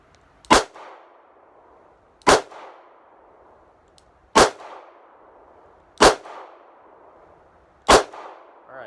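Five revolver shots with Winchester White Box ammunition at a shooting range: evenly spaced, sharp, loud reports about every one and a half seconds, each followed by a short ringing decay, with no talking between them.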